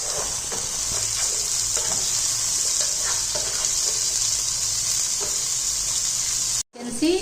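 Potatoes and spring onion fry over a high flame with a loud, continuous hiss and crackle and a few stirring scrapes, then stop abruptly near the end before the sizzle resumes, with no voices.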